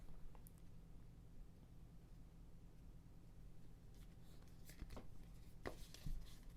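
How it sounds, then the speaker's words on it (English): Quiet soft papery riffling and light taps of a tarot card deck being shuffled by hand indoors, faint and close, with a few sharper card snaps toward the end. "Now I know how to give this deck a good shuffle."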